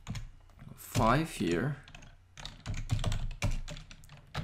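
Rapid, close keystrokes rattle across a computer keyboard as Python code is typed into a Google Colab notebook, coming in dense bursts while someone talks between them.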